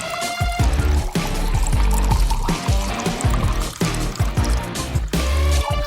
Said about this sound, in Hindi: अब इस पर फैंटा डालेंगे